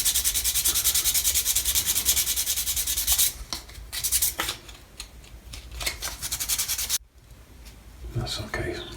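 Sandpaper rubbing casting marks off small 1/250 scale Yamato model ship main gun parts, a loud steady scratchy rasp up close that breaks into short irregular strokes, with a voice speaking at times.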